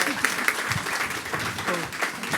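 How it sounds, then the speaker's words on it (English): Audience clapping for panel speakers at a women-in-sports-broadcasting session, a steady burst of applause from a seated crowd filling the short stretch, with faint voices mixed in. "Give them a round of applause"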